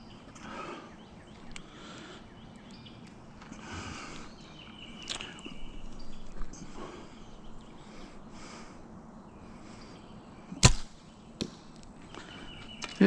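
An archery arrow shot from 50 yards strikes a target with one sharp, loud thwack partway through, followed by a couple of faint knocks against a quiet outdoor background.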